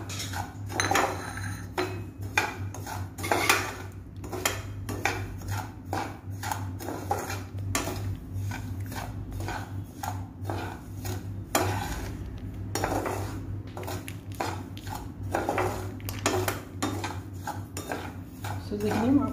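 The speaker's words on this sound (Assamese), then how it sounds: "সুজিখিনি অকণমান রঙচুয়া হলকে ভাজি" Semolina and cashews roast dry in a kadai without ghee. A spatula scrapes and clinks against the pan in quick, repeated strokes close by, with a steady background hum underneath.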